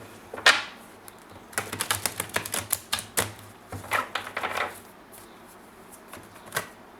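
Tarot cards being shuffled by hand, heard as bursts of quick riffling and flicking, close and crisp, separated by short quiet pauses.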